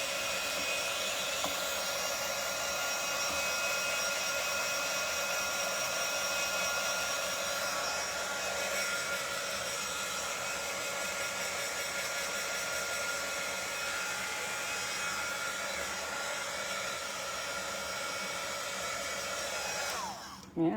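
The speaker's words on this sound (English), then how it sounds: "this is when I use my dryer and I dry these off" A hair dryer blows on a fresh paint coat on a repurposed chair, a steady close whooshing roar with a high whine that holds for about twenty seconds before cutting off at the end.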